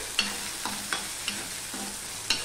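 Crushed ginger tempering fries in hot oil, a soft steady sizzle broken by a few faint stirring scrapes spaced about half a second apart, close by with no voices.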